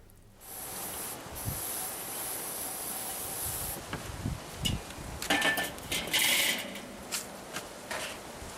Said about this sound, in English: first thing I did was spray the grill